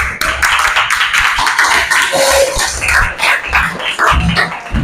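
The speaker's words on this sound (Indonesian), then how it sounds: "Tepuk tangan dulu semuanya" Junior high students in an eighth-grade classroom applaud together, a dense burst of hand claps that rises and falls over several seconds, fairly close and loud.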